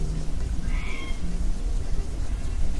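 A cat in a video game gives a single short, rising meow that stands out briefly over a steady, low background rumble.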